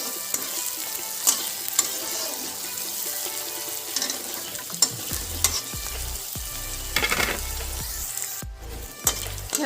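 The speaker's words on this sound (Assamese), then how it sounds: "শেৱালি ফুল পিঁয়াজ জলকীয়াখিনি ভালদৰে ভাজি ল'ম।" Night jasmine flowers frying with onion and chili in a pan, heard as a constant close sizzle with scattered stirring scrapes and clatters and some low rumbling in the second half, with no voices.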